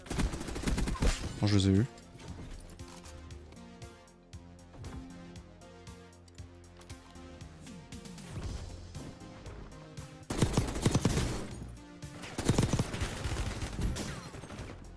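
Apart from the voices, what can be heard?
gunfire in the video game Call of Duty: Warzone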